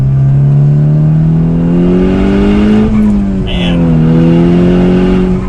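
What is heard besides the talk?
Volkswagen Golf R accelerating while driven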